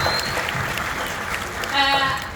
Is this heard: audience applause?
yes